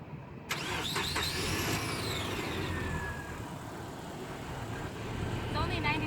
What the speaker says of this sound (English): Now Darylyn's gonna do the honors of first startup.